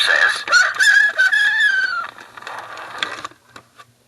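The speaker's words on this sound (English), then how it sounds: "The rooster says." Toy rooster crow from a 1980s See 'n Say pull-string toy, a tinny, warbling mechanical call lasting about two seconds, followed by fading mechanism rattle and clicks.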